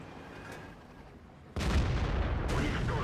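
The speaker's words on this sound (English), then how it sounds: "Friendly artillery misses the other one." Artillery fire in the tank battle game World of Tanks, a loud deep boom that rolls into sustained heavy rumbling, with another blast following about a second later.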